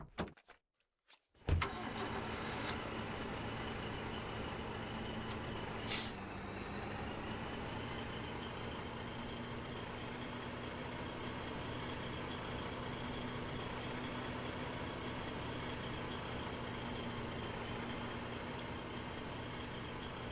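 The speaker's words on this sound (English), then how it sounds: "running our trucks back" Trucks in the war game Foxhole: a steady, loud engine drone with a constant low hum, starting after a brief noisy burst and running on without speech.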